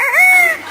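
A talking parrot imitates a rooster's crow, a single short, loud, close call that rises and bends over under a second.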